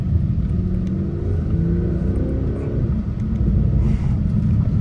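Audi S6 twin-turbo V8 driving on the road, a steady loud low engine drone with a brief rise in revs midway, continuous throughout without talk.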